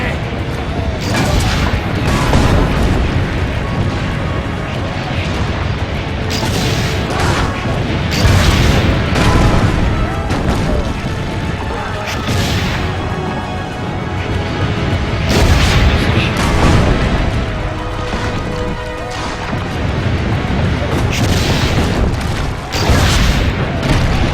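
Loud, repeated booming blasts of cannon fire in Assassin's Creed Brotherhood, layered over dense battle noise and music, with a voice speaking at times.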